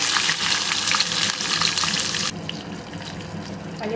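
Cumin seeds, added after mustard seeds, fry loudly in hot oil in a pan for gongura walnut chutney, a dense crackling sizzle that drops sharply in level partway through and continues more quietly, with no voice.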